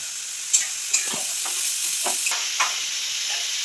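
Vegetables dropped into hot oil in a pan for pabda fish curry sizzle steadily, with a few sharp splashes and scraping stirs cutting through the continuous frying hiss.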